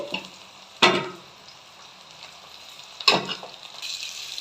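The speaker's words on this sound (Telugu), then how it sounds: "ఇప్పుడు మనము దీంట్లో కాకరకాయలు వేసుకోవాలి." Bitter gourd pieces frying in a pan with onions and curry leaves, a low continuous sizzle broken by two sharp stirring scrapes, with no talking.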